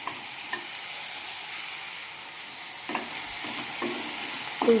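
Spiced cauliflower frying in a pan gives off a continuous soft sizzle, with faint scraping stirs now and then as it is turned.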